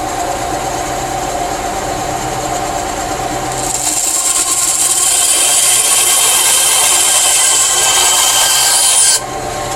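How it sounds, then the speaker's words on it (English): A bandsaw cuts a curve into a wooden zero-clearance insert for a Ryobi miter saw, a steady close rasping whine that rises in pitch partway through and holds before cutting off abruptly near the end. "A bandsaw is excellent for making a curve."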